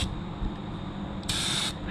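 A steady low mechanical hum from a turbo paint spray system, then a loud hissing burst of paint spray near the end before it cuts off.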